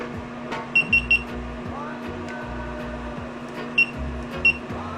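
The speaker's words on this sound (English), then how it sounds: "how to remove the annoying beep sound from the GoPro" A GoPro camera emits short high-pitched beeps, a quick triple burst near the start and two more single beeps later, clear above a low steady background hum.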